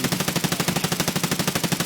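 A G36 rifle in Escape From Tarkov fires a rapid, unbroken burst that empties the magazine, about a dozen loud, close shots per second without a pause.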